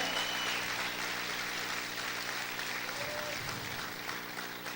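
Congregation applauding during a church service, a steady broad wash of clapping that fills the whole clip, with low organ or keyboard tones sustained underneath.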